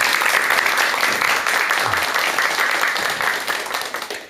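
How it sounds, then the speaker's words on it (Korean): A lecture audience welcomes the doctor with big applause, loud close clapping from many hands that stays strong and steady before gradually tapering toward the end. "큰 박수와 함께 박사님의 강의 청해 듣도록 하겠습니다"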